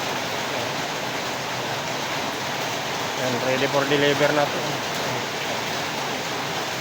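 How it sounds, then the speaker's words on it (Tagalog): Heavy rain pours in a steady, dense hiss that runs through the whole stretch, with someone talking briefly over it midway. "malakas ang ulan"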